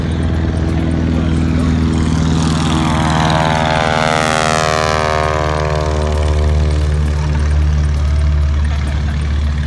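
A loud propeller airplane engine roars continuously nearby, its pitch sweeping up and back down as the plane passes close by, with talk underneath.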